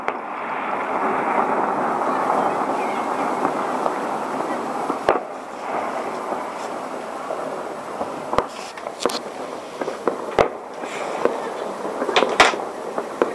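New Year fireworks salute outdoors, a steady crackling wash of distant bursts with several sharper, louder bangs later on, voices of a gathering crowd faintly underneath.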